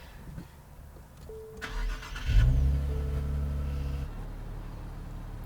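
A Nissan Z Nismo sports car cranks and fires up, settling into a steady, close idle rumble after a short starter whir, with no talking.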